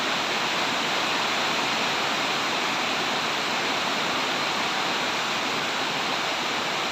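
Steady, dense roar of heavy rainy-season rain pouring down continuously, loud and unbroken with no voices.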